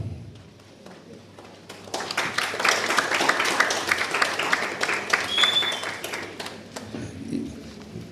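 Graduation ceremony audience giving scattered, half-hearted applause, a thin patter of claps that builds over a few seconds and then tapers off, with a murmur of crowd noise underneath.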